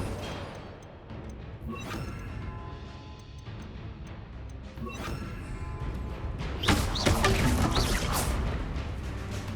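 Incendio fire spells go off in Hogwarts Legacy as several separate whooshing bursts several seconds apart, the last and loudest a crackling blast, all over a low ambient game rumble.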